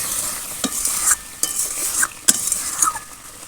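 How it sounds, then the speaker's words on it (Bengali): Spice paste being fried and stirred in oil sizzles softly, broken by several sharp metal spatula scrapes and clinks against the pan at irregular intervals, close by and without speech. "জল মশলাটা একদম ভালো করে কষিয়ে নেব মশলা থেকে খুব সুন্দর করে একদম তেল ছেড়ে গেছে"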